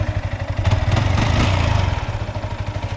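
A Yamaha R15M motorcycle with 50,000 km on it, engine running close by with an even, rapid idle pulse and no knocking, rising briefly in a short rev midway before settling back to a steady idle.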